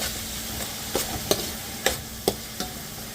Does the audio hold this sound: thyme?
yes